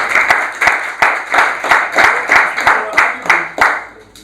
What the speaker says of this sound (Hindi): इनके लिए एक ताली हो जाएगी